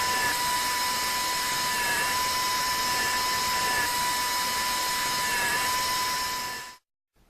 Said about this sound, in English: perform drilling